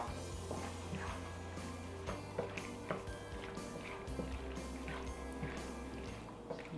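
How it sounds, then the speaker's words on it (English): Pasta being stirred in a creamy lemon sauce, soft wet squishing and gentle clinks of utensil against the pan, quiet and close, repeating irregularly over a low steady hum. "Now I'm just gonna put the pasta in here and then make sure it's well coated."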